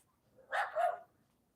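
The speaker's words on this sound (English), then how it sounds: "And my little dog is just raising hell out there." A small dog lets out two quick, sharp barks outside, a short yappy burst at moderate distance that stands alone against a quiet background.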